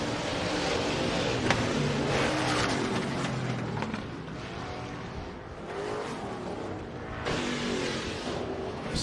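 Race cars in a heat race at Rapid Speedway on a Friday night, engines roaring continuously at close range with rising and falling revs as cars pass, and a faint tire squeal.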